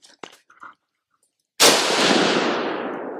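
A single sharp AR-15 rifle shot fired with a translucent magazine, loud and close, with a long echoing decay across an open range after a few faint handling clicks.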